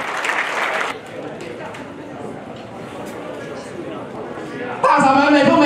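An audience at an army officers' academy alumni reunion meeting applauds, with bursts of clapping at the start and end and an amplified voice speaking between them.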